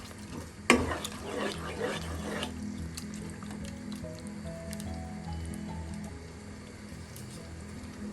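Fish pepper curry made with trevally and soaked kudampuli, gently simmering in a pot: a soft bubbling and squishy liquid sound after an initial stir or clink, steady and close.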